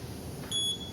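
A homemade non-contact body thermometer gives a short, high electronic beep in the second half, a single thin tone over a quiet background hum with no speech.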